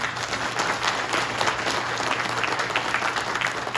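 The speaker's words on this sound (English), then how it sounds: "We can give him a round of applause." Applause from an audience at a Hmong community appreciation event, steady dense clapping that holds evenly for a few seconds, with a low constant hum underneath.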